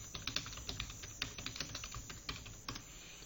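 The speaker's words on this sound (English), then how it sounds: "push the insert key on my keyboard" Computer keyboard typing, including the insert key, a rapid irregular series of light plastic key clicks and taps, close and moderately quiet, continuing for a few seconds with no voices.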